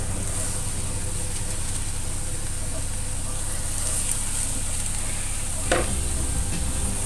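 Chinese cabbage (sawi putih) is stir-fried in a pan, giving a steady close sizzle with a brief clatter of stirring near the end.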